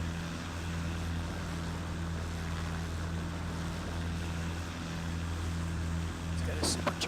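A modified, supercharged Cessna propeller engine in Flight Simulator X drones as a steady, even hum throughout, with voices talking over it.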